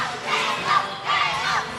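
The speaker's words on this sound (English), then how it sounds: "So Caleb Harris to the chants of Caleb in the crowd" A basketball crowd chants a player's name in rhythmic swelling pulses, loud and roomy, with a dense mass of voices rising and falling about twice per second.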